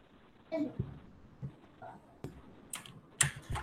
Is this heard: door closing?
no